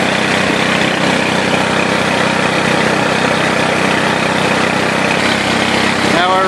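A 48 volt Turgo hydro generator runs at about 54 volts and 13 amps, fed by 40 PSI water through a 1 3/4 nozzle. It gives a loud, steady, unbroken mechanical hum with a rushing wash of water throughout.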